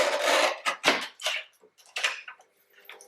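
Scissors snip through a paper envelope in a few short, crisp cuts close by, then quieter rustling trims follow.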